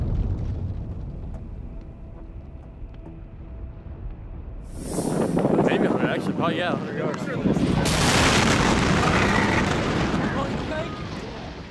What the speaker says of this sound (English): approximately 30 tons of the stored ammonium nitrate detonated, causing a massive explosion.